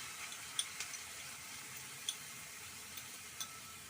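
Yogurt poured into hot spiced oil in a pan with the gas turned off, for doi rui, giving a soft steady sizzle with a few faint ticks and clicks and no talking.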